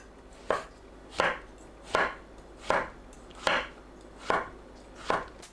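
A knife chops through shiitake mushroom stems on a board, cutting them about 0.5 cm thick: seven crisp, evenly spaced strokes at a steady rhythm, close and clear with no voices.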